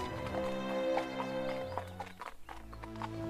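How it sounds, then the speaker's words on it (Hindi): In a cartoon story a king rides off on his horse: steady, rhythmic clip-clop of hooves at moderate loudness over a low musical backdrop, the beats growing more scattered toward the end. "राजा अपने घोड़े पर सवार होकर अपने महल की बाएं दिशा की ओर एक पहाड़ी पर चल पड़ा"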